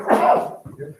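A single sneeze bursts out close by in a meeting room during a board meeting, a sharp loud blast followed by quieter breathy rustle and murmuring.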